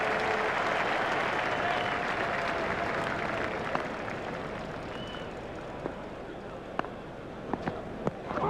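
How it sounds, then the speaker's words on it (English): Crowd applause from the cricket video game EA Cricket 2002, a steady dense wash of clapping that holds throughout, with a few sharper isolated claps standing out near the end. "The crowd enjoyed that one."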